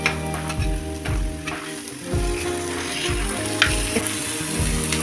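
Pieces of green elephant foot yam, boiled beforehand and coated in masala, fry in a pan with a steady close sizzle, with several soft scraping stirs and a sharp clink near the end.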